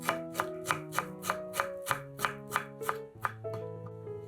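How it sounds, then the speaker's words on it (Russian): A knife chops a bunch of dill rhythmically on a board, about a dozen quick, evenly spaced thuds, close and crisp with no talking. "Нарезаем пучок укропа."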